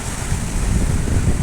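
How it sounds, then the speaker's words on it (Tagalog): Strong wind from a thunderstorm roars against the microphone as a loud, continuous rumbling gust that holds steady throughout with no speech. "Ayun, lakas ng hangin o."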